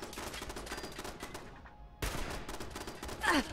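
Enemy gunfire in Fallout 76, rapid bursts of shots crackling close and loud, with a brief lull before the firing resumes even harder.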